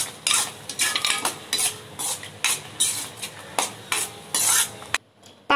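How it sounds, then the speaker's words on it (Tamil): Jackfruit halwa with ghee stirred in a pan, a spoon scraping in quick rhythmic strokes over a soft sizzle, close and fairly loud, stopping just before the end. "பாருங்க, நான் நெய் சேர்த்துருக்கேன். நல்லா மிக்ஸ் பண்ணி விட்டுடலாம்."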